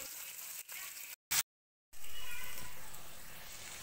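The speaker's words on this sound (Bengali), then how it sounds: "মাছের মাথাগুলোকে ভেজে নিচ্ছি এখন।" Katla fish heads sizzle as they fry in hot oil in a home kitchen pan. A steady, close hiss drops out briefly twice, then returns at full strength.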